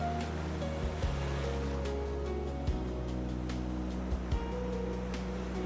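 Ocean surf at Unstad Beach in Arctic Norway, a steady wash of breaking waves with a low rumbling undertone, heard alone with no voices.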